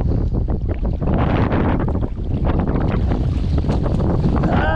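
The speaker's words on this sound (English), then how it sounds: "On a windy day." Steady wind buffets a fishing boat out on open bay water during a trout-fishing trip, a loud, continuous rushing roar with constant microphone wind noise and no voices.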